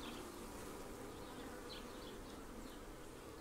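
Honeybees building comb inside a hive on a starter strip of beeswax foundation, a steady, faint, continuous buzzing hum with no talk.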